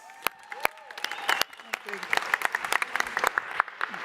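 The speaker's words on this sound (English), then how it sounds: "a huge applause for Patrick Howard" Sparse, scattered clapping for a competitor at the Swiss Coffee Festival 2022, irregular claps building slightly, with voices and event noise underneath.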